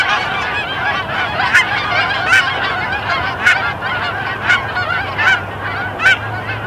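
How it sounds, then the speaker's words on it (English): Wild geese honk repeatedly as a flock flies low overhead during an opening-day goose hunt, loud overlapping calls in an irregular rhythm, heard alone without talk. "So we got geese coming right over us now."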